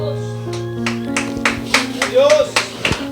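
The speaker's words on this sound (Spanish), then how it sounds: "Puede sentarse y darle palmas al Señor," A church congregation claps in steady rhythm to praise the Lord, sharp hand claps repeating about every half second over sustained organ-like music, growing louder toward the end.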